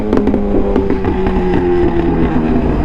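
A tuned Suzuki GSX-R1000 with an aftermarket exhaust roars loudly while riding, a rapid burbling pulse with crackling pops at the start and a sustained engine drone.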